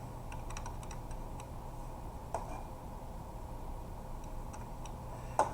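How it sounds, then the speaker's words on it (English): Quick, light taps on a computer keyboard come in short bursts with brief pauses as a Python program is typed, quiet and close against a faint steady hum, with no one speaking. "let me just type here real quick."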